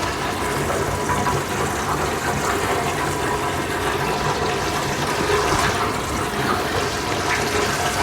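Water runs steadily down a sink drain in a continuous close gurgling rush with no pauses, loud and alone throughout.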